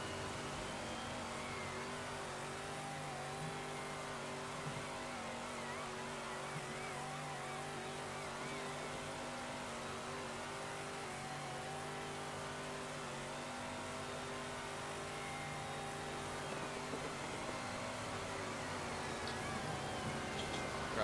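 Prototype race cars lapping in the VP Racing WeatherTech Prototype Challenge, a steady engine drone at moderate distance that holds throughout with no clear individual pass-by swells.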